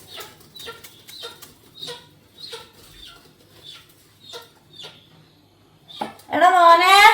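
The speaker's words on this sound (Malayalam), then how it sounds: "കോഴിക്കുഞ്ഞ് കരയുന്നുണ്ട്" A small chick cries out in a home yard with repeated short, thin peeps spaced about every half second. A louder, fuller voice-like sound takes over near the end.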